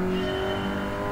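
A car engine in Gran Turismo 7 rises in pitch under a throttle blip, a loud, close, sustained motor drone with strong steady tones through the whole short burst.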